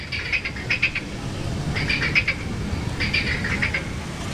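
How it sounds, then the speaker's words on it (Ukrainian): Repeated bursts of frog croaking in short clusters, spaced a second or so apart, over a steady low background rumble outdoors in Vlorë, Albania. "це жаби квакають."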